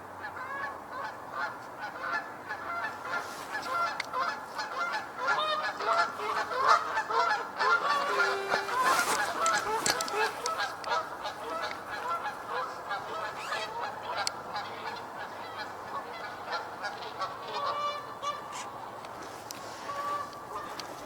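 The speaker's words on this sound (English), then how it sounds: "I hear more geese coming from my left." A large flock of geese honks continuously, many overlapping calls blending into a noisy chorus outdoors, loud and sustained throughout.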